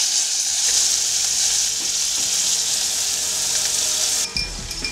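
A gluten-free pork loin steak fries in a pan with a loud, dense sizzle that holds steady, then a brief clatter and a drop in the hiss near the end as the meat is turned.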